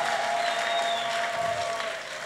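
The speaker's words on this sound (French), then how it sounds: "Crions et applaudissons pour la victoire sur tous les ennemis." A church congregation applauds and cries out together during a service, a sustained crowd roar with a steady ringing tone underneath that eases off slightly at the end.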